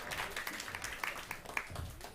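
Audience applause at a panel discussion on climate resilience and agriculture, steady diffuse clapping from a crowd throughout, moderately loud with no talk over it.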